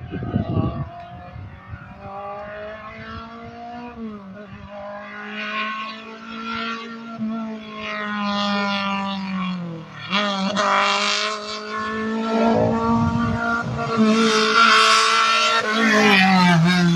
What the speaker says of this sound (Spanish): Impresionante el rugir de este motor.